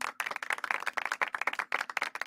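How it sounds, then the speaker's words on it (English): A small group applauding the production team at a live trading stream, distinct individual hand claps in an uneven rhythm with brief gaps, close and fairly sparse rather than a dense crowd roar. "Guys, round of applause for the production team."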